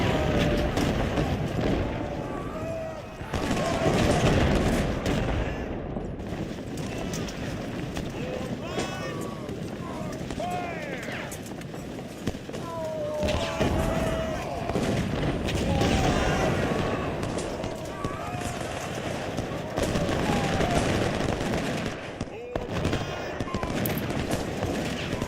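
Artillery and rifle fire rattle through a Civil War battle in Ultimate General: Civil War, with repeated volleys, crackling musketry and booming cannon shots running continuously and loud, and speech mixed in beneath.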